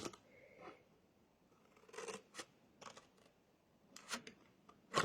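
Scissors snipping during a craft project building a desk calendar easel with a sticky-note holder: a handful of separate, crisp, quiet cuts close by, spaced irregularly with soft rustling between them.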